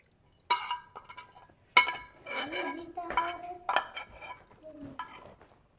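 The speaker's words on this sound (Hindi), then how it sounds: "इसको ना अब अच्छे से मिक्स कर देते हैं और पका लेते हैं।" Spice masala being stirred into trotters in a pot over a mud-house stove: a spoon clinks and scrapes against metal in a series of separate strokes, quiet and close, with soft sizzling between them.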